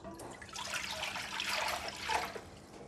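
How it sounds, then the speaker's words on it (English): Water pours into an Instant Pot with a soft, continuous splashing and trickling, faint and close, with no talk. "putting in the water."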